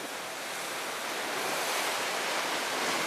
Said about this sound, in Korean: 오늘 너울성 파도가 심한데요?